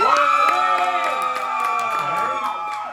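A live comedy debate audience cheers and whoops for the men, a loud burst of raised crowd voices with sustained shouting across the moment.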